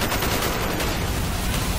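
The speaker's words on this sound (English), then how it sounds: "did I just shoot a civilian?" Dense, continuous gunfire fills a street battle in the Call of Duty: Black Ops campaign, with loud overlapping shots and covering fire crackling without pause for the whole moment.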